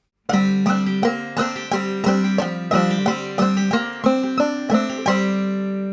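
A plain, steady banjo melody is picked in a bouncy clawhammer rhythm, solo and close, ending on a ringing sustained note.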